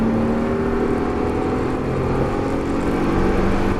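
A car on a circuit during a track driving course accelerates hard with a steady, loud engine drone heard from inside, with no talking.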